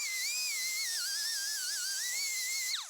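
A Norton Blaze 50 grit Roloc disc on a rotary tool sanding a wooden slapper, a steady high-pitched whine with shifting pitch held at constant loudness, alone, winding down at the very end.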